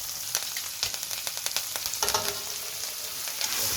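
A saddle of lamb sears in butter in a pan, giving a close, steady sizzle with sharp spitting crackles and a louder burst of frying about halfway through.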